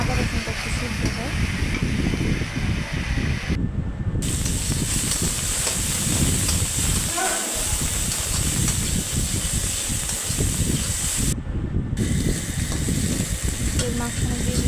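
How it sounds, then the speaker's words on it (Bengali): Spices frying in a pan for an egg and sweet pumpkin curry, with a steady loud sizzle and hiss that continues throughout, broken only by two brief silent gaps. "মশলাপাতি দিয়ে আমরা ভালো করে ভেজে নিব"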